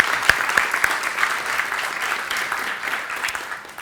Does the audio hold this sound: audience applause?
yes